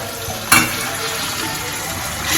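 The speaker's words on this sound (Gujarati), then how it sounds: "અહીંયા આપણે દૂધી જે ક્રશ કરેલી છે તે એડ કરી દઈશું" Crushed bottle gourd hits a hot oiled pan for doodhi shaak, bursting into a loud, steady sizzle that holds close and continuous throughout.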